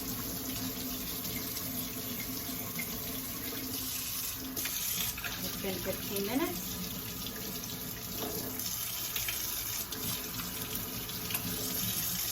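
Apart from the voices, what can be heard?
water running from tap, rinsing a mug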